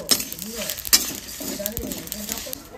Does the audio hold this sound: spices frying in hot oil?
yes